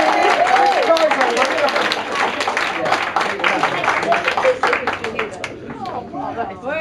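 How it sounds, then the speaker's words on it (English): A studio audience at a Mr and Mrs game show breaks into loud applause and cheering, mixed with crowd chatter and voices, with the clapping gradually tapering off over several seconds. "Give him a round of applause."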